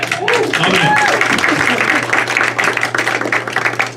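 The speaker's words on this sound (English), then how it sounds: "Y'all give it up for your host" Audience at a comedy show clapping and applauding for the host, a dense, close burst of applause that stays steady for a few seconds, with a voice talking over it.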